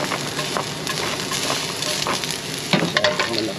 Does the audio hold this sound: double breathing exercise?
no